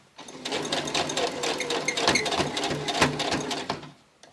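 A sewing machine stitches a small leftover piece of ribbon onto scrap fabric, a steady rapid mechanical whirr running nearly four seconds with brief pauses, close and fairly loud, ending in quiet.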